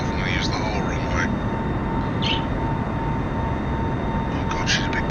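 A Boeing 747 in Microsoft Flight Simulator roars at takeoff power from Heathrow, a loud dense steady engine rumble filling the whole clip, with a voice talking faintly on top.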